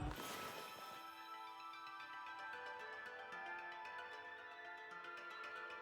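A shimmering, chime-like freeze effect from the video game Okami opens with a bright burst, then rings on as a steady, sustained tonal sparkle with a faint rhythmic pulse, heard alone.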